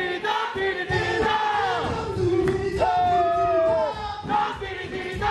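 A crowd at a lively evening event cheers and shouts without pause, the raised voices swelling and falling together and filling the space close by.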